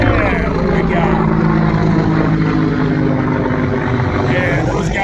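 A military aircraft passes overhead at an outdoor pistol range, a loud steady engine roar lasting throughout without fading.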